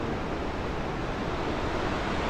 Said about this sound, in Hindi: नदी के काफ़ी नज़दीक हूँ, जो कि पानी बहता हुआ आ रहा है